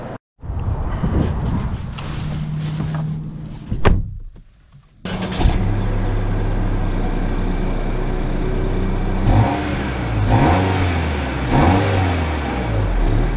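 A 2024 Honda Civic drives off after a door thump, its engine humming and rising steadily under road noise for several seconds, close and fairly loud.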